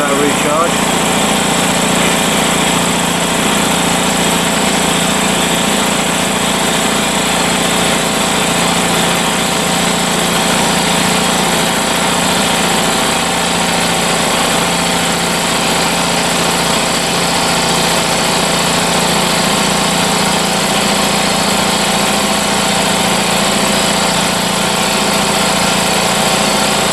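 A Foxhunter 3hp 90 litre air compressor runs steadily while recharging, a loud, continuous motor drone with no breaks.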